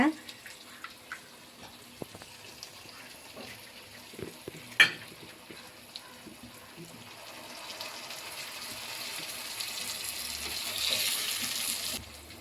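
A single egg frying in a pan: a faint, quiet sizzle with scattered light clicks and a sharp clink, building into a steadier hiss that swells toward the end.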